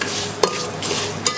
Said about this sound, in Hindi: और अब मैं इसके अंदर चीनी ऐड कर दूंगी।